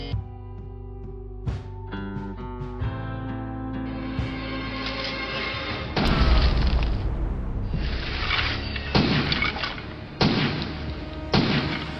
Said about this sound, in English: He's just standing there shooting at things.